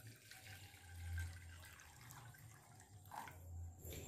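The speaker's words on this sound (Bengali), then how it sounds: "রোজ সিরাপ বানানোর জন্য একটা পাত্রের মধ্যে বেশ কিছুটা জল নিচ্ছি" Water runs steadily into a pot to make rose syrup, a soft, continuous faucet-like pour with a low rumble, fairly faint and steady throughout with no talking.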